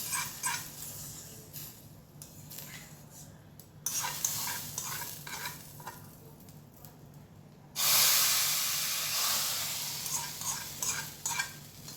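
Asafoetida tempering crackling in hot oil for a tamarind chutney: scattered spoon scrapes over a low hiss, then a sudden loud, bright sizzle bursts up and slowly fades while still sputtering.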